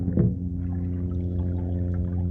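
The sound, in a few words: water gurgling out of sump pump drain outlet at street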